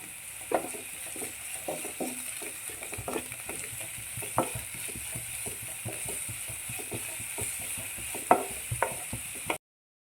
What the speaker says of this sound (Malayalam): സവാള പെട്ടെന്ന് നമുക്കൊന്ന് വഴണ്ട് കിട്ടാൻ വേണ്ടിയാണ്